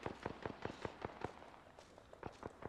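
Gunfire between teams in an Apex Legends ranked match, a rapid series of sharp cracks in quick bursts, fairly faint and distant, pausing briefly midway before resuming.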